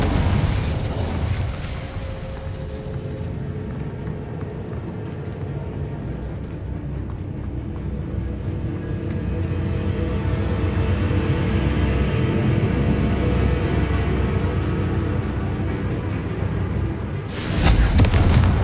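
Incendio and Confringo explosive spells in a Hogwarts video game, a sustained rumbling, crackling roar of blasts and burning that swells and fades, with a sharp louder burst near the end.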